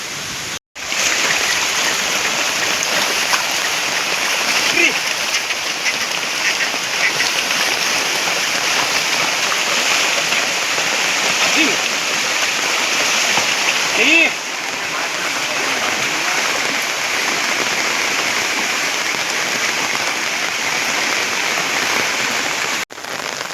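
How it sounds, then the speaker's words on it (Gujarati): Steady heavy rain pours over the Gir forest hills, a dense, unbroken hiss that stays loud and constant throughout with no pause. "હવે વરસાદે ચાલુ છે"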